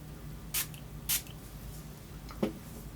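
Two short hissing bursts of makeup setting spray close by, a second apart, followed later by a faint softer puff, with quiet room tone in between.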